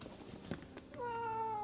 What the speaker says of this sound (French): Dites-vous que mon chat ne miaule jamais.